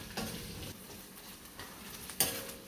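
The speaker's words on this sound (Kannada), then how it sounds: "ಈರುಳ್ಳಿ ಬ್ರೌನ್ ಆಗ್ತಾ ಇದೆ, ಇದು ಇನ್ನೊಂದು ಚೂರು ಬ್ರೌನ್ ಆಗೋವರೆಗೂ ಫ್ರೈ ಮಾಡ್ತೀನಿ" Onions frying in a pan for baingan biryani, a soft low sizzle under a few light clinks and scrapes of a stirring spoon against the pan, close and fairly quiet, ending on a sharper metallic tap.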